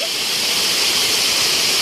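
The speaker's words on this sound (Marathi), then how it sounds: "हा आमचा पनवेलचा आदईचा धबधबा आहे" Adai waterfall in Panvel pours down in a continuous broad roar of rushing water, loud and near, filling the brief moment without pause.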